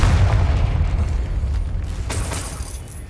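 A Confringo fire-blast spell from Hogwarts Legacy erupts as a heavy, rumbling boom that rolls on for the whole stretch, with a sharper burst flaring up near the end.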